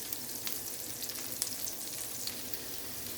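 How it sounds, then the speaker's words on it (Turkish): Chopped peppers sizzle and crackle steadily in butter in a hot pan, with occasional sharp pops and light stirring, close up. "Doğramış olduğum 10 adet biberimi ilave ediyorum"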